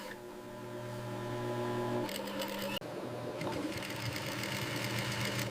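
A sewing machine stitches a crocodile leather wallet, a steady rapid mechanical whir that shifts in pitch partway through and briefly stops for a pivot at a corner before running on.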